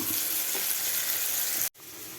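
Fish frying in hot oil, a dense continuous sizzle and crackle held close and loud, then cutting off abruptly before resuming more quietly.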